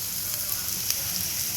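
Chopped onion hits hot oil for the tempering of a Goan beef xacuti, giving a steady, close hiss and crackle of frying that holds even throughout.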